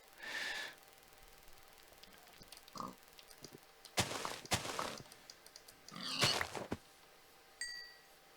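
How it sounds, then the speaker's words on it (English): Short grunting bursts from a pig in a video game set on open plains, several separate snorty calls spread out with quiet gaps between them, fairly close and with no talk. "Hey, a pig! Our first pigs."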